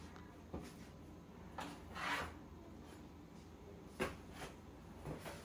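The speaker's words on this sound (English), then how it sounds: "after sanding, I went ahead and I had to dust the shelves again." Dry dusting of freshly sanded wooden pantry shelves, soft brushing and rubbing strokes coming in a few short bursts with small knocks, close and fairly quiet over faint room noise.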